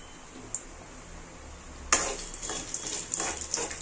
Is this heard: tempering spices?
yes